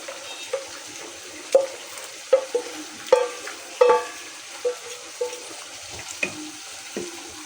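Boiled sour tomatoes go into a hot frying pan and are stirred, giving a series of distinct scraping, clattering stirs over a low background sizzle, close and alone without talk.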